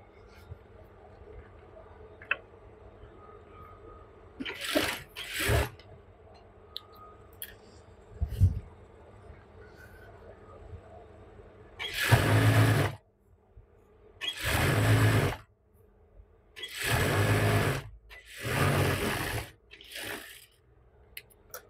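Palazzo pant legs are joined on a sewing machine in short bursts of whirring stitching, several separate runs, each starting and stopping abruptly, with quiet gaps between them.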